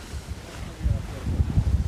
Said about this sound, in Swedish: Så att det blåser runt 17 knop och vi kryssar på här i ungefär 8 knop ute på havet.